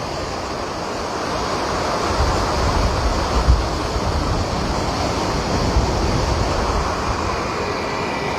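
Heavy water rushing from the opened gates of the Machchhu dam, a loud, steady broadband roar like surf, swelling slightly midway and continuing without break.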